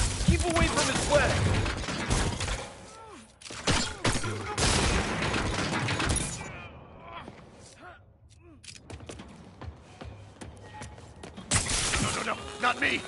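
Rapid bursts of gunfire from the Spider-Man game on PS5, loud and repeated in clustered volleys with brief lulls, mixed with clanks, creaks and other game effects, while voices talk over it.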